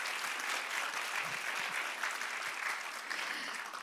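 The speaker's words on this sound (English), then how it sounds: "Let's give Jesus a round of applause." Church congregation applause during a testimony service, a soft, steady wash of many hands clapping throughout, heard somewhat distant and without speech.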